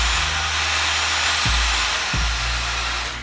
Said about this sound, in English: I'm gonna start blow drying my hair